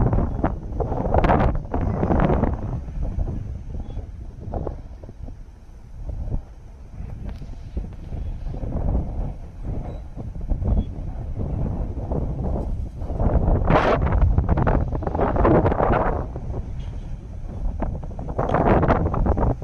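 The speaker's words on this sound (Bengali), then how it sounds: "ফোন ধরে রাখাই সম্ভব হচ্ছে না, এতটাই তীব্র বাতাস হচ্ছে।" Strong wind buffets the microphone in heavy, roaring gusts that rise and fall throughout, with no voices.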